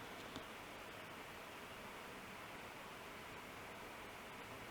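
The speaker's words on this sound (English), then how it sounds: "The fan has been on the entire time, even when I'm doing nothing and leaving it on standby." A gaming laptop's cooling fan runs constantly while idle on standby, a faint, steady broadband whoosh held close to the microphone with no change in pitch or level.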